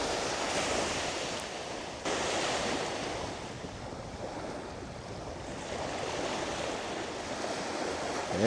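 Ocean waves washing onto a beach at sunset, a broad continuous roar of surf mixed with wind buffeting the microphone, steady and fairly loud with no talk.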